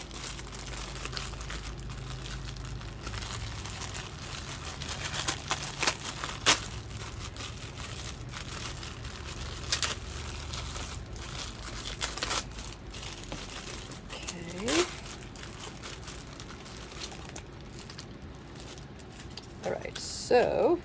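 Plastic goodie bag from a matchbook card kit swap crinkling and rustling as it is opened and rummaged through, with scattered sharper crackles and tears over several seconds, close up, while a person talks throughout.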